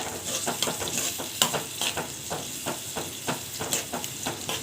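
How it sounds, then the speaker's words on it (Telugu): Curd chutney being stirred in a cooking pan so it does not stick, rhythmic scraping strokes repeating about twice a second over a constant bubbling sizzle, close and fairly loud, no voices. "ఇలా తిప్పుకోవాలండి అడిగంటకుండా"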